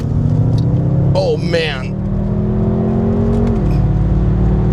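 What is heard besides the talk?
tuned BMW M5 engine revving and accelerating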